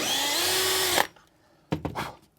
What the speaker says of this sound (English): Quick pilot hole just to make sure it's the right depth.